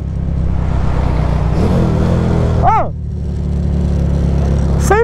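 Honda Titan 150 motorcycle, a V-twin build, running at over 100 km/h on a highway, its steady engine drone and wind rumble loud and close throughout with a brief pitch dip and recovery, no talk.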